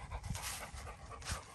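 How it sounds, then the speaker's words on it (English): A black dog pants close to the mic, quick soft rhythmic breaths, fairly faint. "If y'all remember the little thick black pup, that's her right now."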